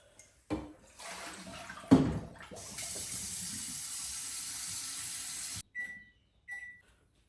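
A kitchen sink tap runs while something is washed, with a thump and clatter at the start, then a steady hiss of flowing water for about three seconds before it shuts off, followed by brief clinks.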